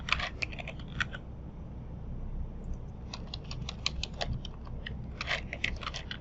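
Fast typing on a computer keyboard makes quick bursts of light, close key clicks, a short pause, then another run of rapid tapping over a low room hum, with no talking.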